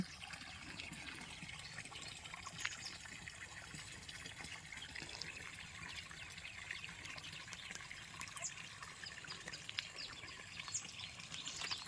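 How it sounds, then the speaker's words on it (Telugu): A steady, thin trickle of water runs continuously into a pond with a faint splashing hiss, no voices, mid-distance and fairly quiet. "నీళ్ళు వదిలేరు కుంటలోకి, సన్నగా పడుతుంది."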